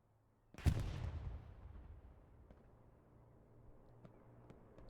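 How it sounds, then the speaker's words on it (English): A P-Strike strafing run in Hell Let Loose bursts in as one sudden loud blast, its heavy rumble trailing off over a few seconds before faint distant pops follow. "P-Strike coming in. Sorry, strafing run in the back line"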